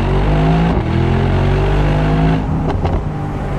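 A Mercedes-AMG SL55 in Sport Plus mode accelerates hard in second gear, its loud engine note climbing steadily, with a brief dip and upshift near the end and no talk over it.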